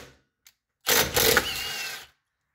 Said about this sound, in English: grab yourself just a little impact.